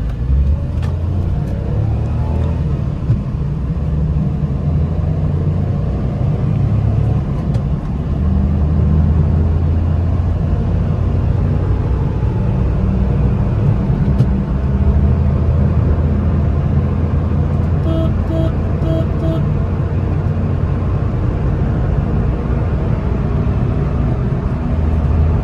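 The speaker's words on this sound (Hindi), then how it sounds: "एक हैवी पिकअप टेस्ट करते हैं इस गाड़ी का।" A Maruti Celerio VXI car accelerates hard in a pickup test, with a steady loud engine rumble and road noise that holds for about twenty-five seconds, recorded from inside or close by with no talk.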